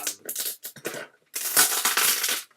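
Rough tearing and crinkling of cardboard in several bursts, close and loud, with a short pause midway before a longer rip.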